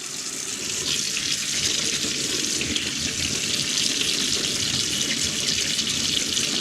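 Mackerel rinsed under a running kitchen tap, a steady close hiss and splash of water into a sink that holds evenly throughout with no voices.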